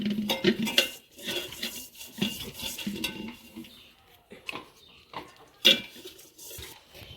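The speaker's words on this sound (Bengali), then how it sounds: "এবার একটু ঘিটা দিয়ে সাইডে একটু ব্রাশ করে নিচ্ছি, মাখিয়ে নিই, তাহলে আর ধরবে না।" Ghee is brushed along the sides of a biryani pot, producing soft scraping and light metallic clinks and taps against the pot in irregular bursts, close and moderate with quiet gaps.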